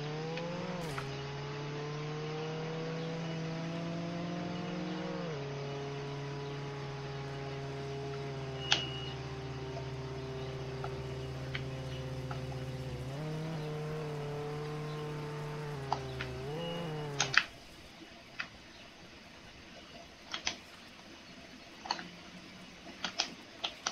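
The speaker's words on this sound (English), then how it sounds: "And I hear a car." A car engine in the Roblox game Jailbreak hums steadily and fairly quietly, its pitch shifting slightly a few times before cutting out, leaving faint scattered clicks.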